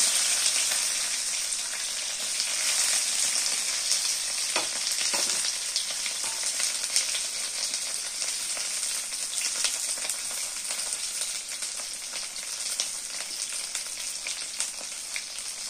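Onions fry in a pan with a dense, continuous sizzling hiss that stays close and steady throughout, with only a few faint knocks and no voices.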